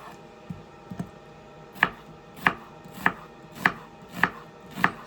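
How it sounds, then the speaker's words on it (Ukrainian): An onion is chopped with a knife on a board, a few light taps followed by evenly spaced firm chops, close and clear with no voices. "тепер ми будемо е, різати цибульку"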